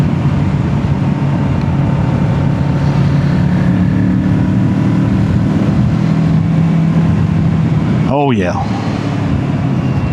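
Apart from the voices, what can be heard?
Kawasaki Z650 motorcycle engine running at 5,000 RPM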